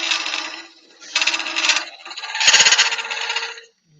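In a woodturning workshop, a mobile phone sounds a notification as three short, buzzy ringing bursts, the last one louder and rattling, heard close and alone.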